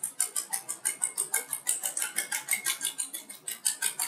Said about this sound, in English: Alright, whisk this about.